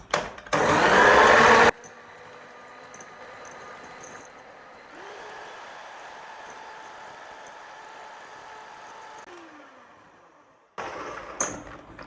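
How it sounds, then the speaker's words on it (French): An electric mixer beats two eggs with sugar in a mixing bowl: a loud, high whirring burst at the start, then a long, steadier and quieter motor drone, with a brief loud burst again at the end. "Avec le sucre. Et je vais les battre jusqu'à les faire doubler de volume."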